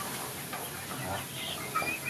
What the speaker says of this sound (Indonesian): Diisi oleh 100 ayam kampung KUB